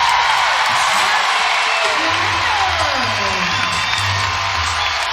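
A home crowd at a Utah college gymnastics meet against UCLA cheers steadily through a floor routine, a continuous loud roar of voices in an arena with music running beneath it.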